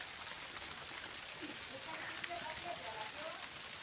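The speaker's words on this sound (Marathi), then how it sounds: "पाऊस पडता बारीक बारीक बघा थेंबे गळतं" Light drizzle falls outdoors while drops drip from a roof or covering, a soft steady patter with scattered small drips, faint and even throughout.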